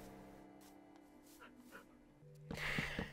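A dog in the video game Minecraft gives soft whimpers, yips and pants, faint at first and then a louder burst near the end, with background game sounds.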